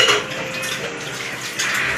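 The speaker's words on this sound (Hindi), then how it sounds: "मम्मी इधर बर्तन धो रही है" Dishes, pots and cutlery clatter during washing at a home sink, with sharp metallic clinks and knocks over running water, close and fairly loud with no voices.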